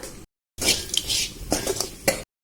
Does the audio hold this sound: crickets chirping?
no